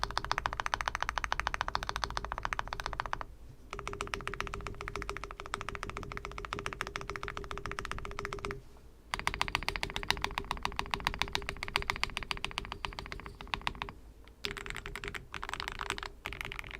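Fast, continuous clacky typing on a Tiger Lite mechanical keyboard fitted with PBTFans Purpolch keycaps, dense close keystrokes in a steady flurry with a few short pauses between bursts.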